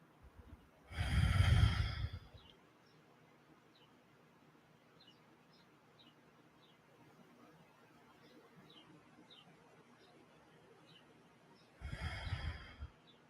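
Two slow, audible breaths during a guided meditation, one near the start and one near the end, close and soft, with quiet stillness between them and faint chirping in the background.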